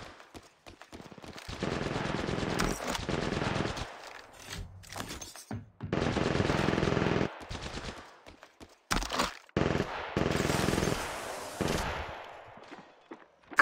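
Automatic weapon fire in the video game Apex Legends comes in long rapid bursts separated by short pauses, loud and close, with a few brief quieter gaps between volleys.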